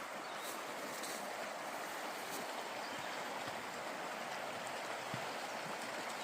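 A river in Monongahela forest, West Virginia, rushes in a steady, even wash of flowing water, constant and moderately distant throughout with no breaks.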